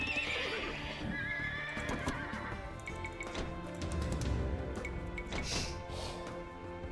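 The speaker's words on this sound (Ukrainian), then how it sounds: "Треба нам коней." Horses neigh and whinny over clip-clopping hooves in the strategy game Age of Empires 2 Definitive Edition, loud and continuous with overlapping game sounds throughout.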